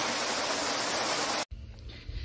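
Waterfall in Pardinho, São Paulo, heard as a steady, loud, broadband rush that cuts off abruptly partway through, leaving quieter low rumbling outdoor ambience.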